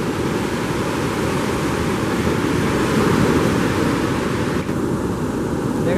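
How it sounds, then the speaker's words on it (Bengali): Big storm-driven waves crash continuously on the Teknaf seashore during a storm, a steady, loud roar of surf with wind noise and no distinct breaks. "অনেক বড় বড় ঢেউ। এই ঢেউ সচরাচর সহজে দেখা যায় না ঝড় ছাড়া।"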